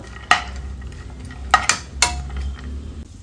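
Chopped cashews and almonds fry in a pan for a sweet, with soft background sizzle broken by a few sharp scrapes and clinks of a spoon stirring against the metal.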